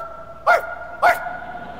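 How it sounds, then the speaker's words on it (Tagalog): A dog barks twice, two short sharp woofs about half a second apart, close and clear over a quiet background with no talking. "Ano tinatahol nyo?"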